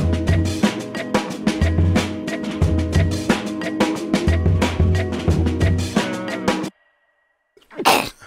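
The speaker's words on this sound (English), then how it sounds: "I definitely just sneezed" Busy music with drums plays steadily, cuts to silence, then one loud, abrupt sneeze bursts out close by.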